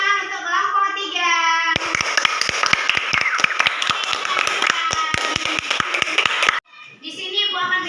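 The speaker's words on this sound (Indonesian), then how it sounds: "Beri tepuk tangan untuk kelompok 3" Classroom applause for group 3, a burst of brisk hand clapping lasting several seconds, loud and close, with children's voices talking before and after.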